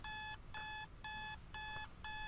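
A digital alarm clock in the Minecraft video game beeps in three rapid bursts, each a steady electronic ring separated by short gaps, loud and alone.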